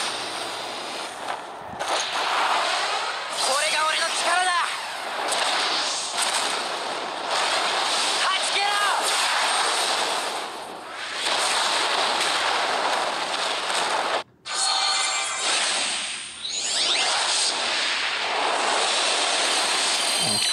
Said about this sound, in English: And now Fran cast the limit burst to break Omega Mark.